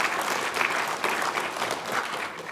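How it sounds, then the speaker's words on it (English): An audience at an international forum claps in sustained, even applause that fills the hall from start to finish. "So let's give Ed a round of applause"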